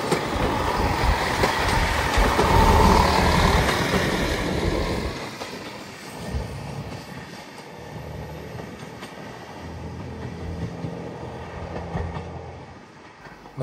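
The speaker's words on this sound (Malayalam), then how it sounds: "നമുക്ക് ഈ ട്രെയിനിൽ കയറാൻ താല്പര്യമുണ്ട്." A train at a station in Wales rumbles loudly and steadily, the heavy roar easing after several seconds into a lower, rattling drone that continues to the end.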